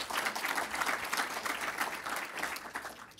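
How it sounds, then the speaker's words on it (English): An audience claps steadily at a talk on the economy, a dense wash of applause with no voices over it. "give yourselves a round of applause."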